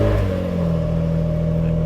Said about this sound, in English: start up that Enzo V12